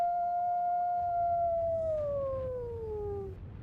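A single coyote howl rings out in a snowy video game, one long, clear tone held steady and then sliding downward as it fades, over a low background rumble.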